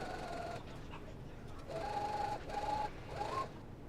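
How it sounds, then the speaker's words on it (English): A domestic sewing machine runs in three short bursts while stitching the side seams of a holiday dress bodice. The bursts are close and moderate in loudness, with quieter pauses between them. "take it to the sewing machine and sew them together."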